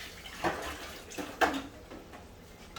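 A pan set into a sink of soapy dishwater while cooking pork chops in gravy, giving a couple of soft splashes and clunks over faint running water and kitchen background.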